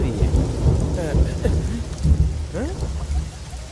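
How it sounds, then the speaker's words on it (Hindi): Heavy rain pours steadily and loud, with rumbling thunder rolling underneath throughout, in a dubbed Hindi movie scene at night. "ओह, ये तो बारिश हो रही है।"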